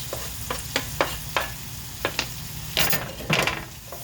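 Onions frying in a pan for saag paneer, with a steady sizzle and sharp clinks of a utensil stirring against the pan at irregular intervals.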